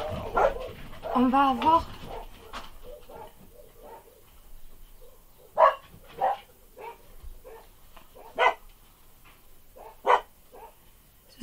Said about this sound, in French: Ce sont mes chiens, comme d'habitude.